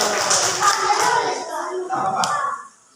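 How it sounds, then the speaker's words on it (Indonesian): Class of children in a classroom clapping their hands together, a brisk burst of overlapping claps lasting a couple of seconds before stopping abruptly, fairly close with faint voices mixed in. "Tepuk tangan dulu."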